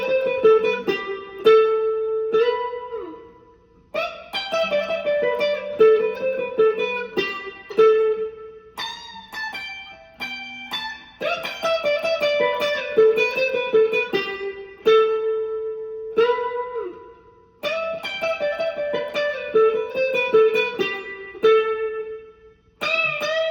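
Electric guitar solo from a song, clean bright single-note lines with bends and slides in phrases separated by short pauses, played solo without accompaniment or talk.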